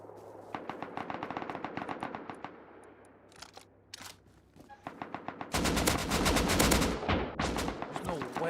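Rapid bursts of automatic gunfire from a shooter video game, loud and close, in dense volleys that thin out midway and then return as a heavier sustained barrage.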